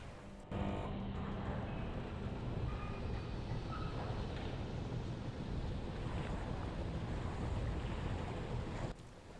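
Kayak paddling in the VR game Phantom: Covert Ops, with a continuous wash of water and wind-like noise lasting several seconds, fairly loud and steady, with no speech.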